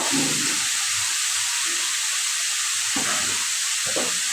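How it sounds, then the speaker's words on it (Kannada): Tomatoes frying in a pan until they soften, a steady broadband sizzle with a few soft bumps from the pan, no voices. "ಟೊಮೆಟೊ ಹಾಕಿ ಟೊಮೆಟೊ ಮೆತ್ತಗಾಗೋವರೆಗೂ ನಾವು ಇವಾಗ ಚೊಲೋತ್ನಾಗ ಫ್ರೈ ಮಾಡಬೇಕು"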